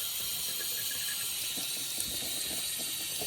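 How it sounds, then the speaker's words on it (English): Water runs steadily from a tap in a close, continuous gush that stays even throughout, with no voices. "just run a bit of water because he'll be getting fed soon"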